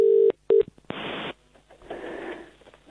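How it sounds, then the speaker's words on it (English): Telephone keypad dialing tones when calling a New Zealand radio station, two short steady beeps followed by bursts of line noise and ringing hiss, loud and close with no one speaking. "we're going to call another radio station in a smaller part of New Zealand"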